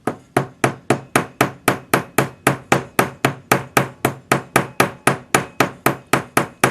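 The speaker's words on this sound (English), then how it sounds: "Use your goldsmith's hammer or a little riveting hammer." A goldsmith's hammer strikes a rivet on a pear-shaped pendant basket setting, giving about twenty crisp, close, metallic taps at a steady even rhythm, each with a short ringing decay.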